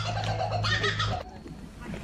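A kookaburra in Australia gives its laughing call, a loud, close burst of rapid cackling notes lasting about a second before it breaks off into quieter background noise.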